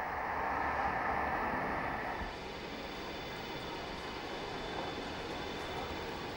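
An ICE high-speed train pulls into Hannover main station, a steady broadband rumble and hiss that eases slightly after the first couple of seconds, with faint high tonal whines throughout.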